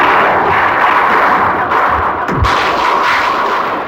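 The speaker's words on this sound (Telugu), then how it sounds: "దీపావళి కదా, టపాకాయలు కాల్చిపోతే ఎలా?" Diwali firecrackers burst in a dense, loud barrage of overlapping bangs and crackles, with a roaring wash of noise and a deeper thump midway.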